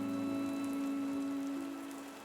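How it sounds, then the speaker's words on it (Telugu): Heavy rain pours in a cartoon story, a steady, dense wash of rainfall heard on its own alongside a sustained tonal hum, without any voices. "అరే మీను పిచ్చుక, ఇంత పెద్ద వర్షంలో నువ్వు పిల్లల్ని తీసుకుని ఎక్కడికి వెళ్తున్నావు?"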